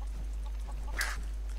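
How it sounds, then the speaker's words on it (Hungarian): A chicken in a video game clucks in a few brief, soft bursts over a steady low hum, with a sharper squawk near the middle. "Ha, mit keres itt egy"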